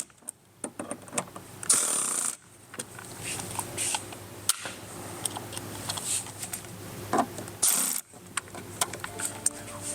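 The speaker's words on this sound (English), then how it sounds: "we're going to go ahead and fully secure our inner mounting points." A hand ratchet tightens the inner mounting bolts of Rokblokz parts on a 2023+ GMC Canyon. It gives quick bursts of close, crisp clicking, broken by brief pauses between strokes.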